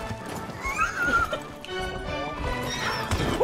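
Horses in Red Dead Online whinny loudly and clatter their hooves in close, overlapping bursts, with a busy mix of thumps and background game noise.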